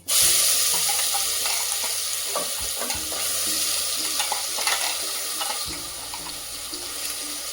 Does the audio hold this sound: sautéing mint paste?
yes